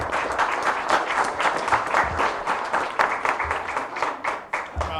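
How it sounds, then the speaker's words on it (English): Audience applause fills a fire department installation banquet in Stafford, Genesee County, a steady roomful of clapping hands that swells and fades slightly over about five seconds, with faint voices mixed underneath. "So we give a round of applause for Ashley and Julie for helping get this ba"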